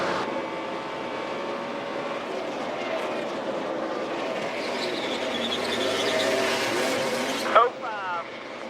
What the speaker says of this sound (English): David Ruderman was actually the fastest car on the racetrack that time